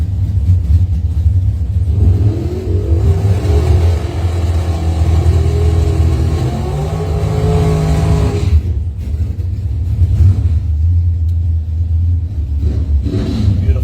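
A 1969 Chevrolet El Camino drag racing car at a dragstrip, its engine rumbling loudly and steadily up close, rising briefly in pitch as it revs before settling back to a heavy idle.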